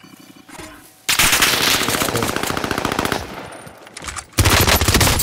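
Loud automatic gunfire in Call of Duty: Modern Warfare played on PS5, a sustained rapid burst of shots, a brief lull, then another close burst, with no talking.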